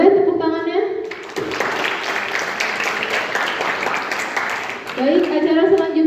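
Seminar audience in a hall clapping for a book speaker, a dense burst of applause lasting about four seconds, with a voice speaking before and after it.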